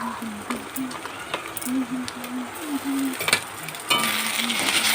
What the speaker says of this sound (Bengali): আদা রসুনটা একটু নাড়া হয়ে গেছে